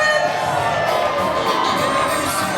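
A wrestling arena crowd cheers and shouts for a popular wrestler, a loud, sustained roar of many voices with whoops rising above it and no gaps.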